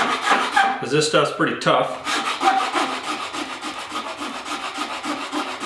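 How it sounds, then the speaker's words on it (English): Crosscut file rasping across a cracked plastic grille from a 1972 Ford short-box pickup, steady rhythmic back-and-forth strokes close up, with someone briefly talking over the filing. "I'm using a crosscut file here."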